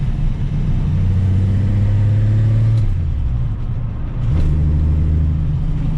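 A Ford Mustang drives past with a deep, loud engine rumble, its revs sagging midway and then climbing again as it accelerates. No one speaks.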